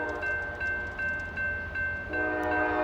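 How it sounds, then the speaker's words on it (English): Norfolk Southern intermodal freight train rumbling past in downtown Hamilton on a snowy, chilly morning, with rhythmic wheel clatter over rail joints and a steady horn tone rising louder near the end. "Looks like a Norfolk Southern Intermodal train coming."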